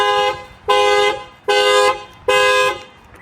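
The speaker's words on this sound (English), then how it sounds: "So if somebody bangs on the window, it's going to set off the alarm." A 2023 Lexus ES350 factory alarm set off by its shock sensor honks in a loud, steady pulse: four long blasts about 0.6 seconds each, evenly spaced, close by, with no voices.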